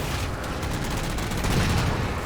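Turret gunfire in Halo 4 rattles in a dense, continuous barrage of rapid shots with booming impacts, loud and unbroken across the whole stretch.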